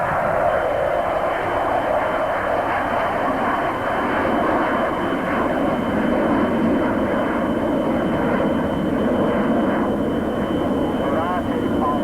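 A military aircraft roars past at the 1992 Humberside air show. The loud, sustained engine noise fills the whole stretch while a commentator talks over it.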